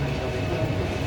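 A dense, steady rumble of a passing train fills the brief moment, heavy and close, with no distinct rhythm or voices.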